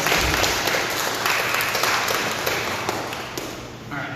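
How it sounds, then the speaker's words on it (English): Big round of applause from the audience at a startup pitch night, a thick continuous wash of clapping that holds steady and then tapers slightly toward the end. "Let's give them a big round of applause."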